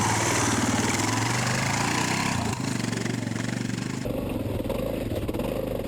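A Suzuki DR650 motorcycle ridden through sand, its single-cylinder engine droning steadily and loudly throughout with engine clatter, the pitch shifting partway as the rider works the throttle.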